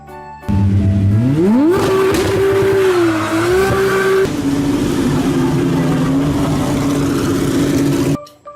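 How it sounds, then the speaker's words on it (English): A racing car revs loudly, its engine note climbing sharply, wavering at a high pitch, then settling into a sustained roaring drone before cutting off abruptly. "Racing car."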